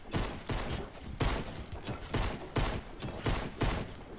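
Bursts of automatic gunfire from a new weapon in the Fortnite video game, fired in repeated rhythmic volleys about half a second apart, loud and steady throughout.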